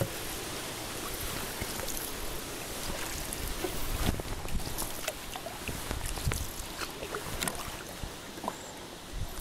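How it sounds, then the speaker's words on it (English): Strong wind of about 15 mph roars across open water around a paddled canoe, a steady loud rush buffeting the microphone with occasional paddle splashes. "Got to be about 15 mile an hour winds right now."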